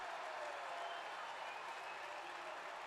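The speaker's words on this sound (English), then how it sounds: "Crowd's really getting into it now." A basketball arena crowd at a Cincinnati Bearcats versus Xavier Musketeers men's game keeps up a steady, dense roar of applause and cheering throughout.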